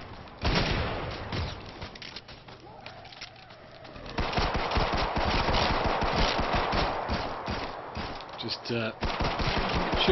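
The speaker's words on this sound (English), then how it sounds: "Shooting with a pea shooter." Killing Floor 2 gameplay is full of gunfire. Rapid machine-gun bursts and single shots come in dense, loud clusters with short pauses, then build to near-continuous firing.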